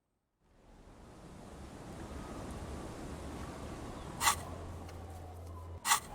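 Soft ocean wave ambience in the video game Disco Elysium fades in, a faint, steady wash of surf with two brief sharp clicks near the end.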